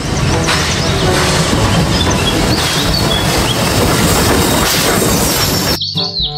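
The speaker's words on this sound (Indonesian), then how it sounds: "Yang ini ada kereta Thomas." A Thomas toy train gives off a loud, steady rumbling and clattering rail noise with faint chirpy whistle tones on top. It runs continuously and then cuts off abruptly near the end.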